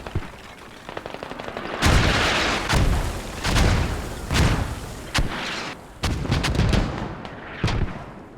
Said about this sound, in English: This is the heavy mortar barrage from the commander.